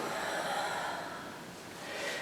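A yoga instructor leading a home strength and endurance session takes an audible breath in and out, a soft, airy rush that swells and fades close to the microphone.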